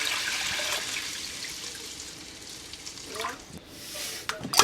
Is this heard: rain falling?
no